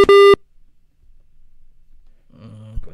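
Telephone busy tone heard right after a call drops during a live radio show phone-in, a short loud steady beep alone at the start, followed by near silence and then faint low noise.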